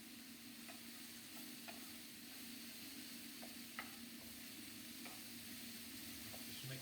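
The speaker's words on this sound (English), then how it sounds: "Just mix all of that in." Chili con carne mince and mushrooms sizzle steadily in a frying pan while a utensil stirs them, adding faint scattered scrapes and taps over the continuous frying hiss.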